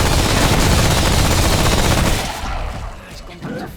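Dense, loud burst of automatic gunfire in the Remnant from the Ashes video game, continuous for about two seconds before dropping away to quieter game sounds and a brief later shot.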